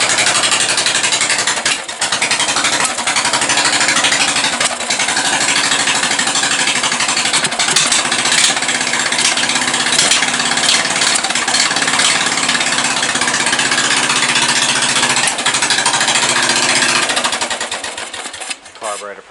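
A small 14.5 Briggs engine with an open exhaust and an untuned carburetor runs loud and raspy for a long stretch, a rapid sputtering putter with some uneven bursts before it winds down at the end.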